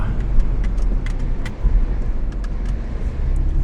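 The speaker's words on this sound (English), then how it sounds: "So I'm driving around Boston." A car drives through Boston at night, its low, steady road rumble and engine noise close and continuous, with a few faint clicks and no talking.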